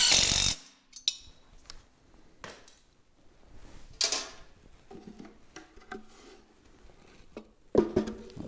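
A nut being tightened with a wrench on a wooden box jig, heard as scattered metallic clicks and ratcheting taps, some faint, some sharper, with gaps of quiet between.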